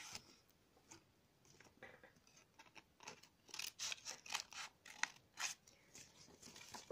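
Scissors cut paper for a folded origami box, with a string of quiet, close snips and slides that grow busier partway through, and no one speaks.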